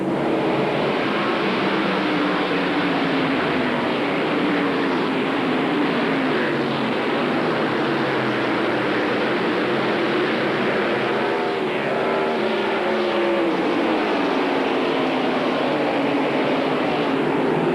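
NASCAR Craftsman pickup trucks roaring away at the start of a 1997 Truck Series race at Nashville on a Saturday night, a dense, continuous loud engine drone with crowd wash and shifting pitch throughout.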